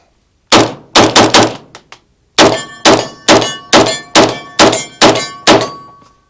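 A 5.56 PMag polymer rifle magazine set down and handled on a hard surface: a quick cluster of sharp knocks, then a steady series of about eight evenly spaced thunks and clacks, close and loud with no talk.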